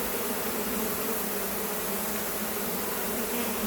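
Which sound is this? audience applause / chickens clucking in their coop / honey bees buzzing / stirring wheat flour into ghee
honey bees buzzing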